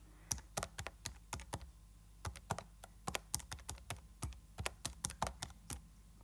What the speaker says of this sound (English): I can type that into my calculator